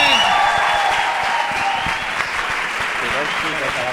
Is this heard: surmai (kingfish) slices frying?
no